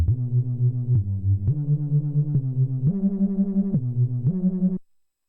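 Synth tone from a music production session with an octave layered in the stereo sides, playing a sequence of sustained notes that step in pitch, each note loud and steady with a gritty buzz, then cutting off to silence.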